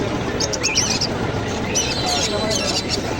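Several cockatiels chirp and whistle in short bursts among the cages at a bird market in Mirpur, close by, over steady crowd noise and people talking.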